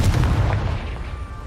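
Confringo blasting spell exploding in the Hogwarts Legacy video game, a single deep booming blast that rumbles out over about a second and a half, loud and close.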